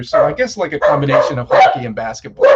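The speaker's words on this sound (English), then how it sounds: "Sorry about the dogs." Dogs bark intermittently in the background beneath continuous, close conversational speech, several short yips and woofs partly masked by the talking.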